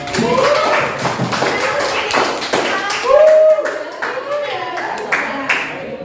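Classroom clapping in a teacher-training session: scattered, uneven hand claps from a group run on and off throughout, mixed with voices talking over them.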